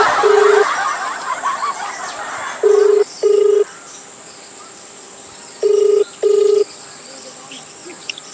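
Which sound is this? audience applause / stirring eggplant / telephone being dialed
telephone being dialed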